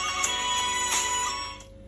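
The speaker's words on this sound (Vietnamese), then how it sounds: "các bạn đã cài được nhạc chuông iPhone thành công từ cái nhạc từ TikTok mà các bạn tải về" An iPhone ringtone made from a song downloaded from TikTok plays loud and steady as a short melodic tone loop, then fades off at the end, with no voices.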